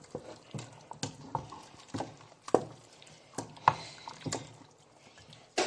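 Meat and meat stock stirred in a pressure pot for okro soup, giving soft wet clinks and sloshes in an irregular rhythm, close and moderately quiet, with no talking.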